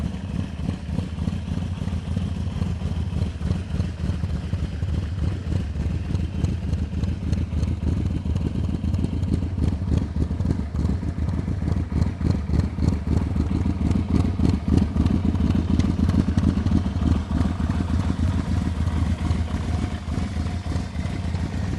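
A Yamaha V-Max 1200 motorcycle engine runs steadily at close range, a continuous loud low rumble with mechanical clatter and slight swells in revs, heard alone without talk.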